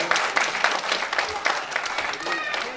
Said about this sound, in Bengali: অনেক জোরে করতালি